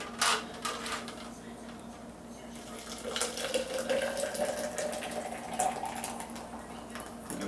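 A steady, soft pour of a blended smoothie trickles and gurgles at close range, with faint clatter and background hum.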